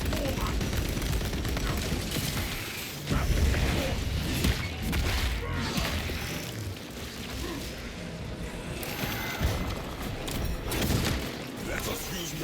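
Gunfire and explosions from the video game Space Marine crackle in dense bursts with thuds and crashes, while a voice talks over the battle throughout.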